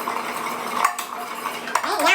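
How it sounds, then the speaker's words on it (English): A whisk clatters against a soup pot as flour is stirred into a dairy-free cheddar and broccoli soup, a steady close scraping and tapping with a few sharper knocks. "Whisking in my flour."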